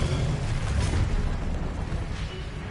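A fire spell cast in Hogwarts Legacy on PS5 gives a dense, continuous roaring whoosh with heavy low rumble, steady and fairly loud throughout with no talk.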